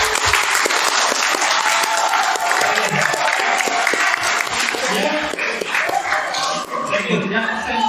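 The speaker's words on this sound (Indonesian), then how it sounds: "Tepuk tangan untuk Anda semua." Applause from a seminar audience on digital marketing, dense clapping mixed with crowd chatter, a few chuckles and voices talking over it, continuing at a steady level.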